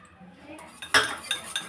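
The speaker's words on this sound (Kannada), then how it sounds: "ಅದು ಗಂಟಾಗ್ದಂಗೆ ಚೆನ್ನಾಗಿ ಮಿಕ್ಸ್ ಮಾಡ್ಕೋತಾ ಇದ್ದೀನಿ" A spoon mixing custard powder into milk in a bowl: close metallic clinks and scrapes against the bowl, a few distinct taps in an uneven stirring rhythm over faint kitchen background, no talking.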